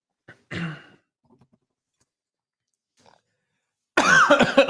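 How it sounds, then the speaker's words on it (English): A person coughs and clears their throat close to the mic, a short rough burst followed by near silence, then a louder cough or throat-clearing at the end. "Let me cough first."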